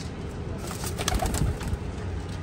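Teddy pigeon chicks give soft, low cooing calls close by, a few murmuring coos over a constant background hum.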